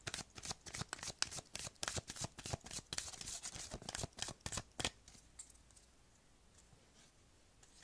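Tarot cards cut and shuffled close up, a rapid flurry of crisp riffling clicks and flicks for about five seconds, then fading to near silence, no talking.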